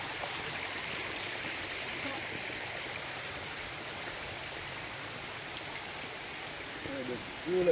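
Forest stream flowing in Tuyen Quang, a steady close rushing hiss of water throughout, with a brief louder splash at the very end.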